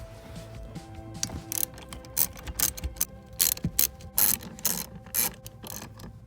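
A wrench ratchets bolts loose on a 1999 Subaru Forester during parking brake cable work, a close series of quick clicking bursts and metallic rattles in an irregular rhythm, with no talk.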